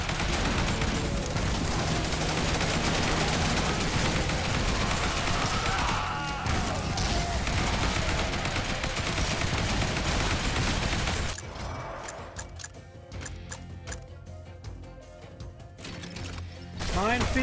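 SMG and assault rifle fire in a zombie survival video game, dense rapid bursts and explosions blending into a continuous loud barrage that thins out partway through before resuming, with a voice talking over it.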